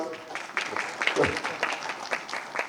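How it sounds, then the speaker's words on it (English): Audience applause at a women's football strategy event: a room of hands clapping steadily and fairly close for a few seconds, with a voice speaking over the clapping. "I knew that would get some claps."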